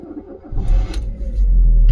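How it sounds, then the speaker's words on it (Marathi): A vehicle engine starts up with a low rumble that builds and settles into a steady idle, close and fairly loud, heard on a trip toward a temple at Sasgaon. "तर आता गाडी स्टार्ट करतो"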